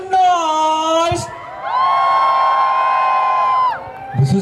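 Crowd at a university event whooping and cheering, long sustained shouts from many voices swelling together near the mic, with a brief pause between two loud bursts.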